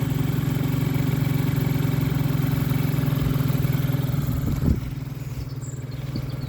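A Hyosung motorcycle fitted with a replacement engine idles nearby with a steady low, even rumble and a faint rhythmic pulse, briefly dipping in level near the end, with no voices.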